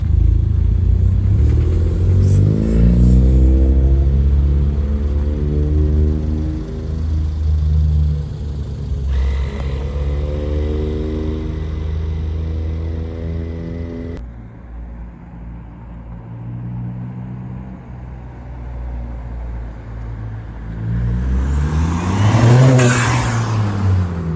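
Ford Fiesta ST200 engine idling and warming up, a loud steady rumble with shifting revs throughout and a sharper rise in engine note near the end.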